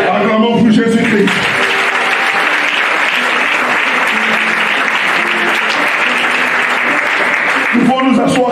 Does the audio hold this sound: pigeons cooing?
no